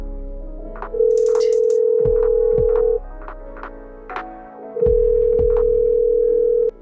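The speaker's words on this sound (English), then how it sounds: "Big Twine, pull out his phone to call me" A telephone ringback tone on an outgoing call sounds as two long steady tones separated by a pause, with faint clicks and background noise between them.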